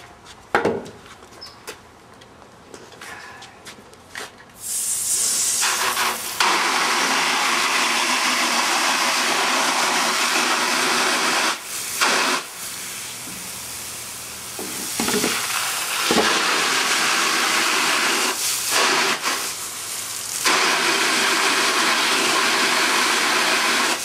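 A hose nozzle sprays water to rinse a silk screen outdoors in the shade, a steady, loud broadband hiss starting after a few seconds of quieter background and continuing with brief dips and pauses.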